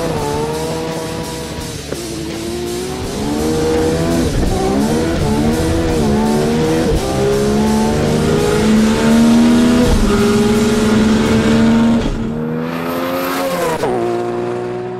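Nissan R32 GT-R drag racing down the strip on a 10.0-second, 150 mph street-car pass; a loud, close engine roars continuously and climbs in pitch through several gear changes, then fades briefly before surging again near the end.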